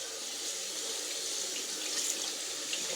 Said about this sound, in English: it just washes off with water